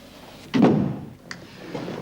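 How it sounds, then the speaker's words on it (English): A door swings shut with a single dull thump and a faint latch click after it, fairly close, with no talk over it. "Close the door."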